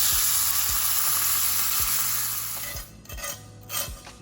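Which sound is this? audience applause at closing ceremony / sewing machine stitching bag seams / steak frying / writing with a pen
steak frying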